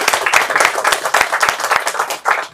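A crowd at a gathering for water-service providers applauds the councillors, with individual claps distinct and rhythmic, loud and near, and bursts rising and falling in uneven waves.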